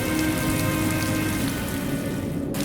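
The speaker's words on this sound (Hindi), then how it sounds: "बाहर बारिश हो रही थी" Steady rain falls outdoors in a village, a dense, even hiss of drops pattering on surfaces that continues without pause and without voices before ending abruptly.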